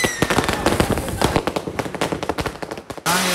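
Firecrackers bursting in rapid irregular volleys at a Diwali celebration, sharp loud cracks crowding together like gunfire, with a brief hissing burst at the end.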